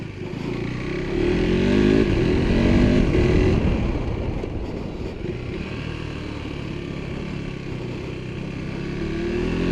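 A KTM 390 Adventure R motorcycle engine drones steadily, rising briefly as it revs, with rumbling road and wind noise throughout a continuous ride.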